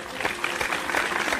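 Applause sound effect played from a computer, a short burst of dense clapping at steady loudness, slightly thin and artificial.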